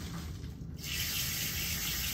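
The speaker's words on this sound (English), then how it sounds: "I'm going to open up the water" A tap turns on partway through and water runs steadily and fairly loudly into a sink, with only faint room noise before it starts.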